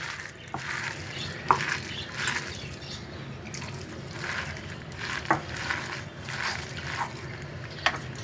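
Rice flour and fritter batter, made for papaya-flower fritters, worked by hand in a bowl: soft wet squelching and stirring with a few sharper slaps and clicks, steady and close, no talking.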